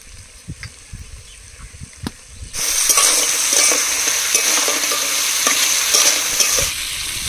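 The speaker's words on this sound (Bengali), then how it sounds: "কাঁকড়াগুলো 2-3 মিনিট কষিয়ে নিয়েছি" Crabs sauté in a pan with salt and turmeric, a loud, steady sizzle jumping up partway through and holding, with scraping stirs and occasional clinks, no voices.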